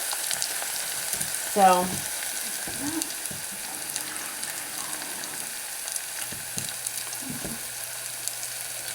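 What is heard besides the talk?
shiro ingredients sauteing in a pan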